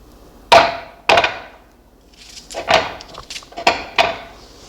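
A small onion being chopped into paste in a kitchen food chopper, heard as about six loud, close, rattling bursts with short pauses between them and no talk.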